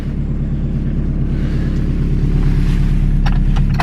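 An 80s Toyota car engine idles outside after sitting unused for a while, a steady close rumble with even low pulsing, loud and continuous with no talk.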